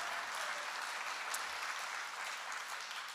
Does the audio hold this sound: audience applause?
yes